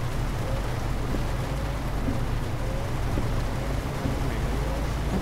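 Steady rain hiss in Euro Truck Simulator 2, a constant loud wash of droplets over a low rumbling hum, with no talk over it.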